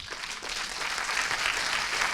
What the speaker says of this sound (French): aussi filmer le public qui applaudit ce soir